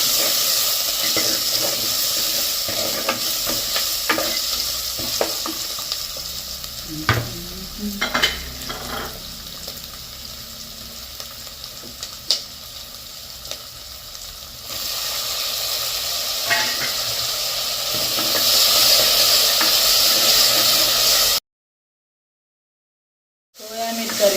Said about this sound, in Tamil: தக்காளிப்பழம் உருளைக்கிழங்கு எல்லாம் நல்லா வதங்கணும் பாருங்க